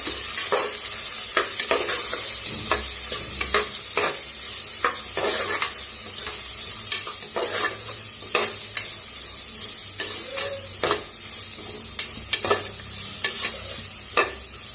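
Ground masala paste for masala rice roasting in a pan, a soft continuous sizzle broken by irregular scraping strokes of a spoon stirring, close and fairly quiet.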